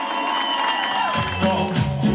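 Wedding guests at a Latin-music wedding celebration in Bucharest cheer and whoop as a steady crowd din over loud dance music, with brief shouts rising near the end.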